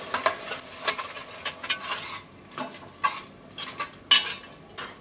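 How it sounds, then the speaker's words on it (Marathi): Crushed ginger and garlic stirred into golden-browned onion in a pan for Agri-Koli wedding-style mutton, with repeated scraping and clinking strokes of a spoon against the pot over a light, steady sizzle. "आता यामध्ये ठेचलेला आलं लसूण घालूया, थोडंसं आपण परतून घेऊया।"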